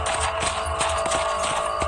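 Horse hooves clip-clopping in the video game Red Dead Redemption, a steady rhythmic trot of sharp repeated hoofbeats over a constant background hum, loud and close with no talk.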